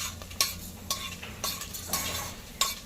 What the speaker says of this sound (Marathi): जिरं आणि खडे मसाले चांगले परतून घेऊया तेला तुपात